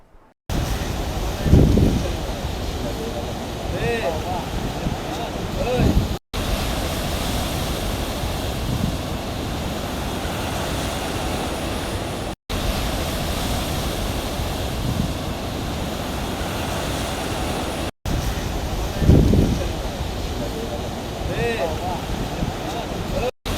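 Rough monsoon sea on the Konkan coast, a loud continuous roar of surf and wind buffeting the microphone, with several heavier wave crashes standing out across repeated short segments.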